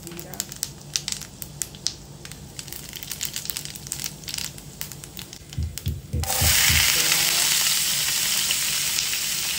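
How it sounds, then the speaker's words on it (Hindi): Onions frying in oil in a home kitchen: crackling, scraping stir noises give way to a loud, steady sizzle as the pan heats up, with a voice speaking underneath. "ज़्यादा भी ब्राउन नहीं करना है और ज़्यादा भी ऐसा कच्चा भी नहीं रखना है, मीडियम रखना है। प्याज थोड़ा नरम करना है"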